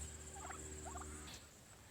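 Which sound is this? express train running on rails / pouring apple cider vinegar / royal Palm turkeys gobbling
royal Palm turkeys gobbling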